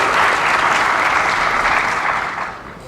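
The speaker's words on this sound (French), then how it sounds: "Merci beaucoup Catherine, on peut l'applaudir" An audience at a Disneyland Paris fan convention applauds, a dense, loud wash of clapping that holds steady for a few seconds and then starts to taper off.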